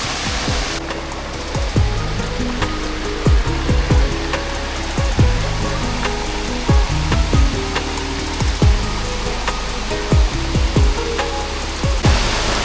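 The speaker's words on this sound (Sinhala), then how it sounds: "අපි දැන් ඉන්නේ සුරතලිය ඇල්ල ළඟ." Surathaliya Ella waterfall in Sri Lanka pours in a steady, loud, broadband roar, with sharp ticking or knocking sounds recurring close by over the rushing water.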